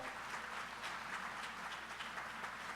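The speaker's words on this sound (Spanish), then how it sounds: "Aplaude el nombre del Señor." A church congregation bursts into sustained applause during a Spanish-language sermon, dense overlapping clapping at a steady, moderate level with no voices standing out.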